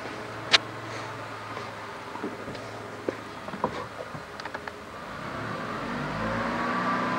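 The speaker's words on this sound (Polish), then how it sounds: "Teraz sobie znowu damy obrotów." A Seat 1.6 petrol engine idles and then builds revs under test, a quiet low hum rising gradually toward the end, with scattered light clicks and taps nearby.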